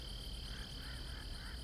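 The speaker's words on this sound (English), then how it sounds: "You hungry, frog?" Faint frog croaks repeat against a steady insect-like hum, heard in a Mark Twain jumping-frog story set in Calaveras County.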